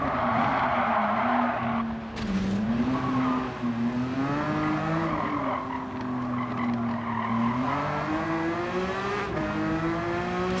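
A Ferrari racing in Gran Turismo 7 holds a loud, sustained engine tone that bends up and down with shifts and revs, while tires squeal steadily on top.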